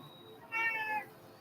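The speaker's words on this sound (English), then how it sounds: "That cat is getting worked over." Domestic house cat giving a single clear, drawn-out meow of about half a second, moderately near, over a quiet room background.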